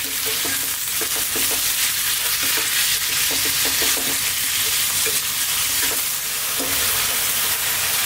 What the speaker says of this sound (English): So still on a very high heat, let's throw this around in the pan for about 3 to 4 minutes